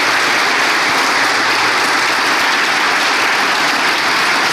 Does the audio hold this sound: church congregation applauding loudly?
yes